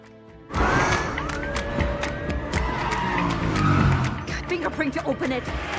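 A car speeds away during a getaway from a prison, starting abruptly with engine roar and tire squeals, loud and close, sweeping through several seconds before easing off.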